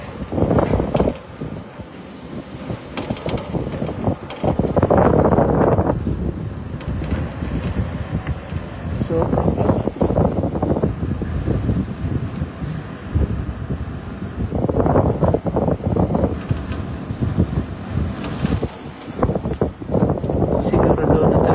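Strong typhoon wind during Typhoon Uwan roars and gusts steadily across the whole stretch, loud broadband rushing with surging peaks, while people talk faintly underneath.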